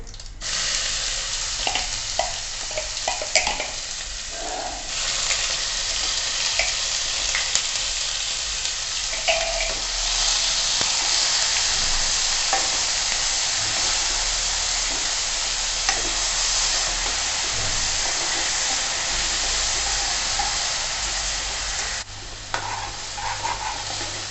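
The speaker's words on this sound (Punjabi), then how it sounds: "ਹੁਣ ਪਾ ਦੇਣਾ ਜੀ ਆਪਾਂ ਅਦਰਕ ਲਸਣ ਪਿਆਜ਼ ਦਾ ਪੇਸਟ ਜਿਹੜਾ ਕਿ ਆਪਾਂ ਮਿਕਸੀ 'ਚ ਗ੍ਰਾਈਂਡ ਕਰਕੇ ਰੱਖ ਲਿਆ ਸੀ" Ginger, garlic and onion paste sizzles steadily in a pan for Jimikand sabji while being stirred, a loud continuous frying hiss broken by scraping strokes, with no talking.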